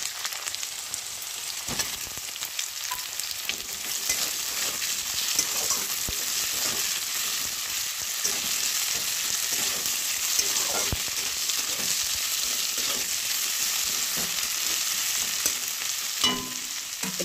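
Potatoes and onions fry in hot oil in a pan for ghugni, a steady sizzle broken by occasional scraping and clicking of a spoon stirring, with no talking over it.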